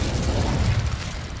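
A fire spell cast in the Hogwarts Legacy video game during a fight with goblins, a loud, dense roaring burst of flame with heavy low rumble sustained for about a second and a half, no talking over it.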